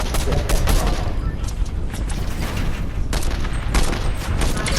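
Rapid bursts of Fortnite video game gunfire crackle almost continuously, loud and close, with brief gaps between volleys.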